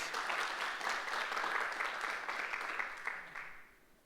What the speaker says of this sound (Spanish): Dale un aplauso al Señor, pues.